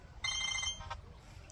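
A mobile phone rings in a comic village skit: a short, bright electronic ringtone chirps for about half a second, then quieter sounds trail off.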